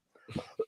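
A single short cough from a man during a comedy podcast, a quick muffled burst followed by a sharper second hit, close and brief.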